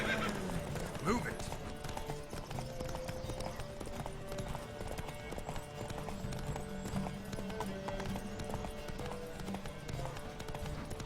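Rapid, steady clip-clop of horse hooves galloping through a race in The Witcher 3, loud and continuous beneath layered game music and a talking voice.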